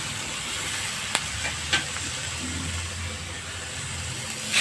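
Pointed gourd fries in a pan with a steady, even sizzle, broken by a couple of sharp clacks as a spoon stirs it. There is low background rumble underneath.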